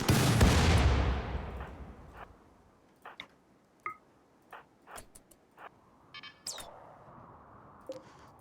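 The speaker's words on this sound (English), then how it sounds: "Oh, the auto mortar." An auto mortar in the video game RimWorld fires a single loud booming launch at the start that fades away, followed by scattered faint distant thuds and impacts.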